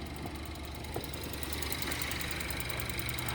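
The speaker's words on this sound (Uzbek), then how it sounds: "Motorlari soatda ishlab turibdi." A Jetour X90 Plus SUV with its Chery engine idles in a steady, even drone with a faint ticking edge, close by and unbroken for the whole span.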